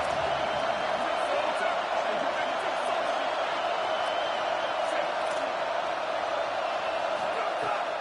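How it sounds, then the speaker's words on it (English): A home crowd roars steadily through a college football video game, a dense continuous wash of cheering that runs the whole time, with a voice speaking over it. "how nice is it to have the home crowd going absolutely bananas"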